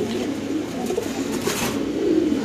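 Spanish pigeon cooing up close, a soft, steady, low murmuring coo that runs throughout with no talk over it.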